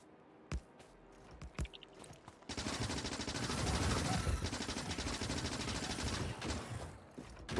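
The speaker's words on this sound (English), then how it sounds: "We're doing pretty good damage to them with our guns." Guns shoot at biters in the video game Factorio, starting with a few isolated sharp shots followed by a sustained, dense burst of rapid automatic gunfire that continues steadily to the end.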